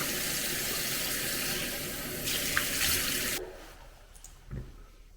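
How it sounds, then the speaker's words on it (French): Tap water runs loudly into a bathroom sink and splashes as someone washes their face, a steady rushing stream that cuts off abruptly partway through, leaving quieter drips and a small splash. "ça en fout partout de l'eau"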